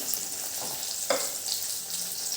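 Chopped capsicum and onion sauté in a hot pan with a steady close sizzle and one brief stirring scrape partway through.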